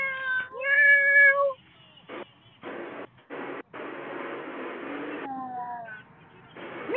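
Meows come in short tonal bursts, mixed with choppy noise-like crackle that sounds as if it passes through a doorbell camera, with quiet gaps and a final meow at the close.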